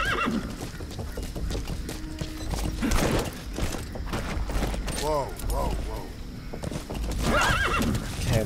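A horse whinnies loudly over steady hoofbeats and mechanical game sounds in Metal Gear Solid 5: The Phantom Pain, with a second neigh near the end.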